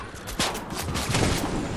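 Gunfire strikes the player during a Fortnite squads match on PS5, a dense burst of rapid shots loud and close that runs through nearly two seconds, with faint talk over it.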